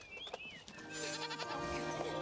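A goat-like sheep creature with long ears bleats in the Infinity Nikki video game, a few wavering, nasal cries at close range over soft game music.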